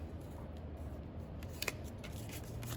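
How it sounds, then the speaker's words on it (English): Scissors snipping through card stock, a couple of quick faint cuts over steady room hiss, close by with no speech. "we're going to flip it over and trim that off."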